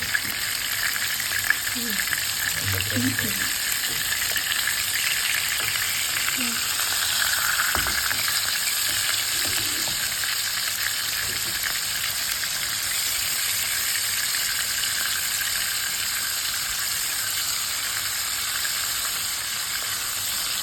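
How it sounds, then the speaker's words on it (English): Tofu sizzles and fries steadily in a hot pan, cooked Sri Lankan style, a continuous close hiss with a few soft stirring knocks early on. "we will temper the tofu"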